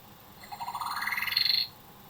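A Fisher Price Tough toy camera plays its start-up sound: a quiet electronic chime made of rapid pulsed tones that sweep upward for about a second and then stop cleanly, heard on its own.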